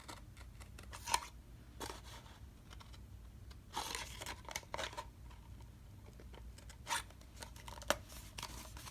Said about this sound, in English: and then I will cut going up like this